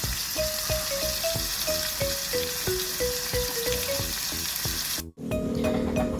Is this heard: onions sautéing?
yes